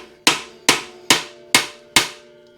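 Five sharp, evenly spaced hammer strikes ring out at close range as a part is knocked off a mini truck, each hit decaying quickly into silence.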